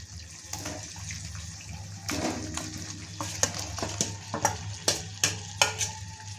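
Marinated radish hits a pan of oil and spice paste cooked with Kashmiri chili powder and turmeric, giving a soft steady sizzle, then repeated scraping strokes of a spatula stirring it in a regular rhythm.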